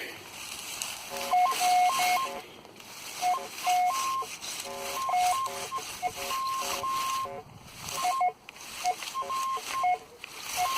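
A metal detector searching for artillery emits a string of electronic beeps at shifting pitches, some short and some held, loud and close with no talking.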